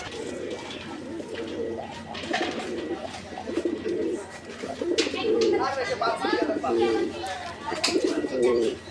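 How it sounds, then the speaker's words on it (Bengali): A male pigeon, one of a pair offered for sale, coos close by in repeated, rolling, throaty bursts with short pauses between them. "আমরা কিন্তু কবুতরটার ডাকটা আপনাদেরকে দেখায় দিলাম"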